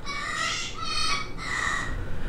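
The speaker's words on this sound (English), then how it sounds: "That's the sound of parrots." Parrots in a garden give three harsh, squawking calls in quick succession, loud and close, with no talking.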